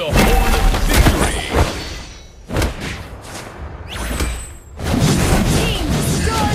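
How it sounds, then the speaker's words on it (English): In the Mobile Legends video game, a turret is destroyed with heavy booming thuds and crashing impacts in bursts, loud and close, separated by brief quieter gaps. "Your team destroyed a turret."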